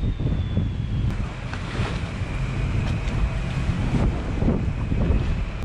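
Strong wind buffets the microphone at a busy boat ramp, a constant low rumbling roar with gusty surges and no speech.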